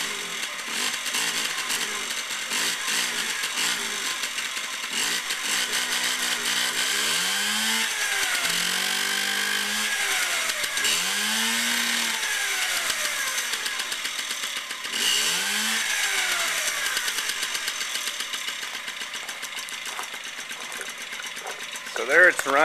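A Yamaha golf cart's small petrol engine idles roughly after starting on the choke, a buzzing, rattling drone that rises and falls in pitch as the throttle is blipped, with a person talking over it.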